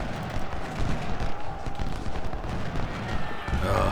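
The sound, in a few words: gunfire hitting artillery in Ultimate General Civil War video game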